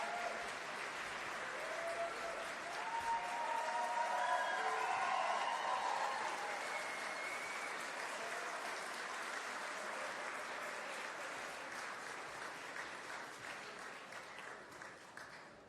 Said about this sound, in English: another round of applause for our exceptionally talented musical guests